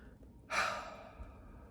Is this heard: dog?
no